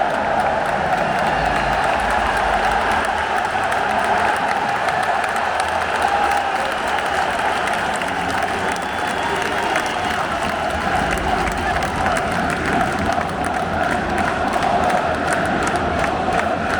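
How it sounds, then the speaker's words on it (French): A large stadium crowd in the south stand at a football match roars and cheers continuously, a dense, steady wall of sound with scattered applause and shouts rising throughout. "l'ambiance est exceptionnelle de la part du virage sud"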